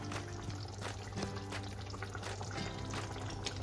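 Water pours into a pan of drumstick and potato bhaji, a faint continuous splashing trickle with a light hiss from the hot pan, and no speech.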